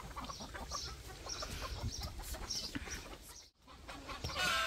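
Chickens clucking in a farmyard, repeated soft clucks in an irregular rhythm at close to moderate distance, fairly quiet, with a brief rustle near the end.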